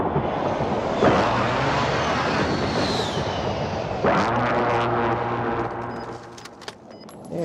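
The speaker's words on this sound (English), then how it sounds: "Friendly precision airstrike inbound." Friendly precision airstrike jet in a video game sweeping overhead, a loud rushing roar that swells and fades twice with a whining tone, amid muffled explosions and clatter.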